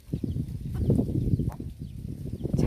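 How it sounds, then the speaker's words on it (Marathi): Chickens cluck in the shade under a coconut tree on a farm, with scattered close clucks and soft calls against light breeze and background noise. "आणि निम्म्या कोंबड्या बघा नारळाच्या बुडाखाली आहे तिथं"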